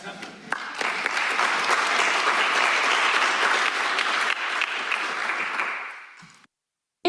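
Sustained audience applause for the presenters at an agricultural research conference session, a dense wash of clapping that builds quickly, holds steady for about six seconds, then tapers off and stops.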